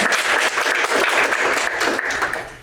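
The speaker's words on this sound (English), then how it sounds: "if we could give them a round of applause" A conference audience gives panelists a loud, steady round of applause. The dense clapping holds even for almost three seconds, then begins to ease off.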